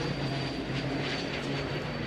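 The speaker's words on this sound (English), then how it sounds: "Don't mind the airplane taking off." An airplane taking off from a nearby airport near the Donington racing circuit gives a steady, broad roar that holds evenly throughout without rising or fading.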